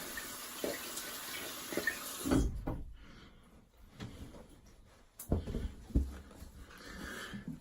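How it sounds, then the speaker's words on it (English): Water runs from a tap as a brush is rinsed under it, with gurgling splashes and a few sharp knocks, the flow cutting out partway and resuming, no talking. "I'm just going to rinse this brush and show you."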